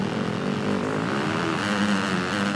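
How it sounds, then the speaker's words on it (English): Motorcycle engine in the Monster Energy Supercross 2 video game bogging down out of corners with a lack of revs, a steady droning hum with wavering pitch, loud and continuous throughout. "The bike is literally bogging down out of corners."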